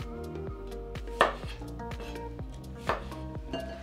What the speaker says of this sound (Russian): Возьмем редиску и разрежем вот на такие вот крупные